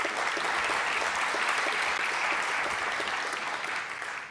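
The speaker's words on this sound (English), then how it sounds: "let's give them a round of applause" An audience applauds a student government delegation, a dense, steady round of clapping that holds evenly for a few seconds before tapering slightly at the end.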